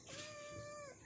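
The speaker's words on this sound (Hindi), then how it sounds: "अब दे दी मैंने इसको रोटी और रोटी खा रही बिल्ली अब" A cat meows once, a long drawn-out cry with a steady pitch, close by and clear while being fed roti, with faint background murmur and no speech.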